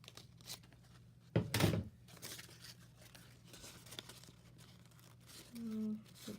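Crepe paper rustles and crinkles as a rosette is being shaped, with one louder burst of crumpling and softer handling noises around it, plus a brief tonal squeak near the end.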